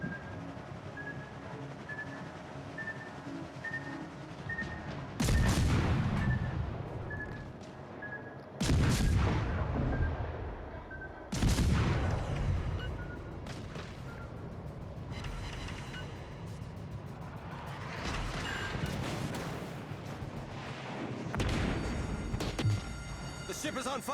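Naval gun salvos from a premium cruiser, Mendez Nunez, in World of Warships Legends, several loud booming volleys a few seconds apart over a continuous engine-like game rumble, with a voice talking in between.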